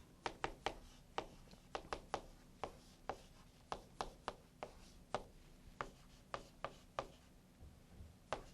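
Marker or chalk strokes on a classroom board during an English reading lesson, a quiet series of short scratchy taps and strokes in irregular rhythm, close by with no talking.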